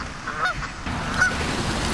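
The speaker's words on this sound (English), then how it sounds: "When Zip shows up, the geese and their feathered friends head for the pond" Canada geese give a couple of short nasal honks near a pond, one early and one later, over a steady outdoor background hiss.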